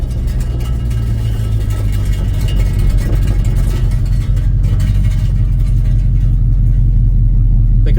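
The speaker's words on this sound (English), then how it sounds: "It's very loud. It has zero muffler." A 1966 Lincoln's engine with no muffler rumbles loudly and continuously at close range, a deep unmuffled idle with a rough, throbbing low-end growl, its exhaust scraping the asphalt.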